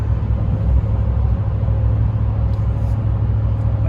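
A Ram 1500 pickup fitted with a K&N Blackhawk intake cruises in eighth gear on the highway, giving a steady low engine drone and road rumble that stay loud and even throughout.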